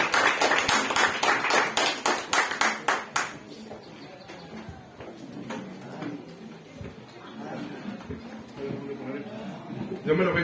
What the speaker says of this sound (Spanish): con un fuerte aplauso de cariño lo podamos recibir una vez más aquí